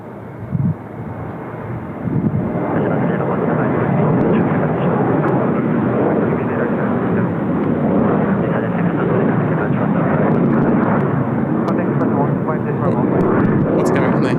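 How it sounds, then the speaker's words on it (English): A Boeing 737 departing Seoul Incheon Airport, a loud, steady jet roar that rises after a brief bump and holds for the rest, with some wind buffeting. "As EasterJet just departing now with the 737."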